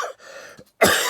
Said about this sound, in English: it's not a dry cough, it's a productive cough